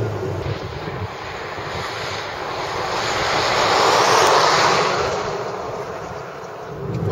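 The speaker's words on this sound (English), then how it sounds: "that's road noise, and it's transmitting directly through the wheels" Steady broadband road noise carried through the wheels of a Hyundai Accent hatchback on low rolling resistance tires, a continuous rushing roar that swells gently toward the middle and holds steady, with no talking.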